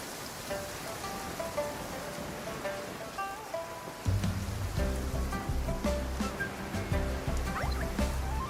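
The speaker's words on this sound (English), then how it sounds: "It always rains when I go on an adventure." Rain falling in the game Genshin Impact, a continuous soft hiss of drops that persists alone while a low musical score swells in partway through.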